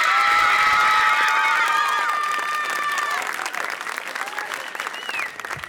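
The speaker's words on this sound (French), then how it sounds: "Et maintenant, je vous demande, vous, d'applaudir Rapsa." Audience applauding a rap group at a France Bleu Loire radio showcase in Saint-Étienne: loud, dense clapping with some cheers and whoops, steady for several seconds and thinning slightly toward the end.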